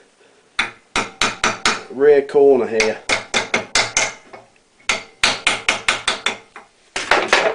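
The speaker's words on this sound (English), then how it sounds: "Gently tap the material down onto the hammer form." A hammer taps airbox sheet material down onto a hammer form in quick, sharp, ringing metallic strikes, falling in bursts of several blows with short pauses between them, while a voice speaks briefly mid-sequence.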